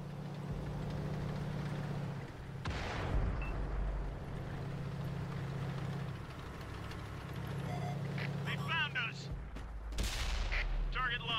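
The T20 tank's cannon in a video game fires two heavy booming shots several seconds apart over a constant low engine rumble, with faint game voice lines in between.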